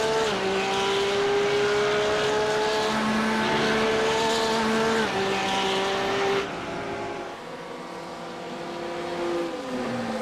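Sports cars including Porsches and a Lamborghini race at the Nürburgring in a sim racing game, engines droning loud and continuous with rising and falling gear-change tones, tyres squealing and a pass as the pitch drops partway through.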